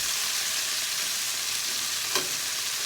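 Red meat steak sizzles on a hot grill pan with lots of splashback, a loud, steady, close frying hiss throughout, with a faint brief clink partway through and no talking.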